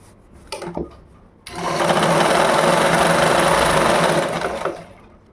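A sewing machine stitching a ladies' blouse: a few quick clicks, then a steady, fast whirring run of stitches for about three seconds before it winds down, close and alone.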